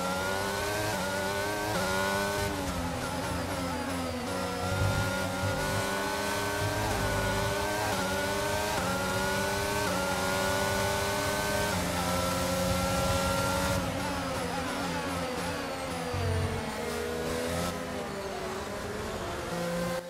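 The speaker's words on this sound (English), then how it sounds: "we've been sat behind Verstappen for a while just trying to line him up" Formula 1 race cars in the F1 22 video game, at the Canada round, scream at high revs, the engine pitch rising and falling through the gear changes in a continuous drone.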